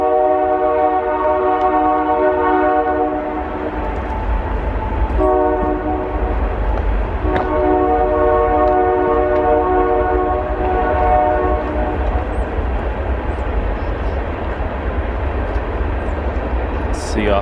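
A train rolls along a nearby track, its horn sounding in long harmonic blasts over a heavy, continuous rumble that stays loud and close throughout.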